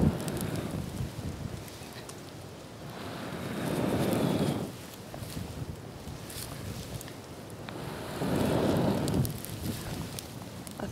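Wind blows outdoors beside a campfire with a billy can, giving a constant rushing buffet that swells into two louder gusts, with microphone-rumbling noise and no talk.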